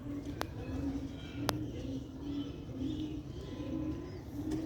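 Sialkoti pigeons coo in a steady, repeating low rhythm, close and fairly soft, with a couple of sharp clicks in between.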